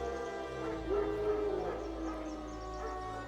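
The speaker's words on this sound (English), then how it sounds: "No. Wild dogs." Wild dogs in The Witcher 3 video game growl and whimper faintly over a low, steady game ambience, brief canine calls rising now and then in the distance.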